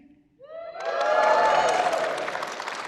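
A convention panel audience at PAX Unplugged breaks into loud cheering and whoops after a brief pause, swelling quickly and holding for a couple of seconds before slowly easing.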